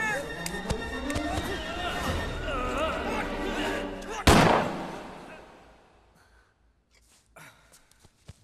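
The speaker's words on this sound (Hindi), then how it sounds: "ये क्या किया तूने? गोली चलाई?" A single sharp, loud gunshot cracks out midway through busy talk and music, then the noise falls away to near quiet with faint scattered sounds.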